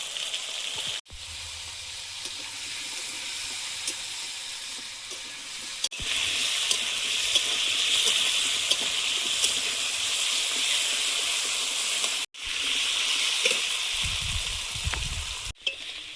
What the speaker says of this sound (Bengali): আলুটা ভাজা ভাজা হয়েছে